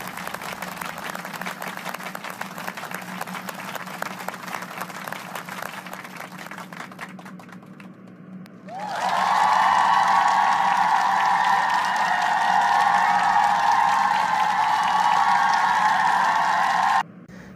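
A live studio audience bursts into loud, sustained applause and cheering that swells after a quieter stretch and carries on steadily for several seconds before cutting off abruptly.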